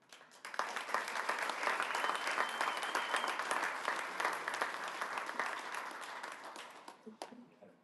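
Sustained crowd applause and cheering for a Nashville SC Unified team captain, wearing number 11, swells quickly after a brief quiet start, holds steady, then fades near the end.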